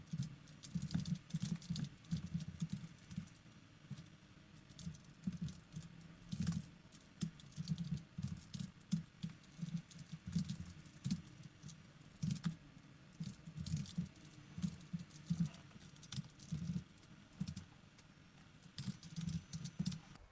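Steady stretch of quiet computer-keyboard typing while code is written, with soft irregular key clicks in quick bursts and brief pauses and no talking.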